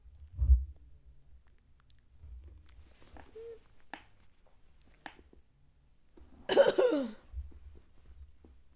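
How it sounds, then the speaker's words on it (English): A single harsh cough rings out near the microphone amid a quiet room with a few scattered clicks and low thumps. "Cough, cough, cough, cough, cough, cough, cough, cough."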